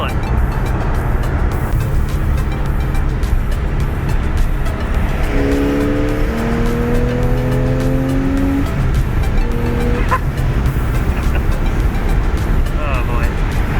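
A 400-horsepower Porsche 911 Carrera S engine driving hard on a rally stage, a steady loud drone with rising revs and tire noise, heard from inside the car while people talk.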